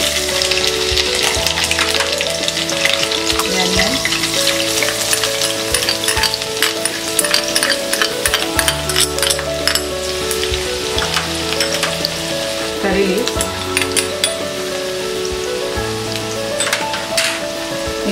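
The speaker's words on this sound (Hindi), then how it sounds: "तेल गरम हो गया है, अब हम इसमें डालेंगे ये राई, डालेंगे ये ग्रीन चिली" Mustard seeds and green chilies crackle and sizzle in hot oil for poha, a dense, loud, continuous frying hiss with sharp popping seeds throughout, close to the pan.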